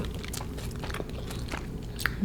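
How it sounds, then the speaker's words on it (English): A single crunchy bite of a churro and brief chewing, close and fairly quiet, with a soft background hum. "That bit was crunchy."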